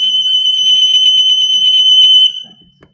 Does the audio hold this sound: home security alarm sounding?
yes